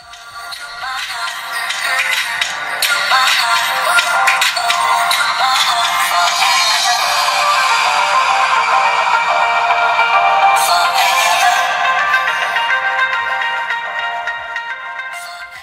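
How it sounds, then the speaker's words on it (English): Music plays loud through the loudspeaker of a Ruggex Rhino 5 Lite rugged Android smartphone, bright and thin with no low end, swelling in and running steadily for about fifteen seconds with no talk over it. "So let's play a bit of music here."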